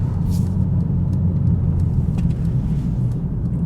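A Mercedes-AMG CLA45 S with a 420 hp engine drives in race mode, heard from inside as a steady, loud low engine rumble with road noise and no sharp revving.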